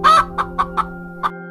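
A hen clucks in a storybook giant's kitchen, one longer cluck followed by four short, evenly spaced clucks, close and clear over a steady low hum.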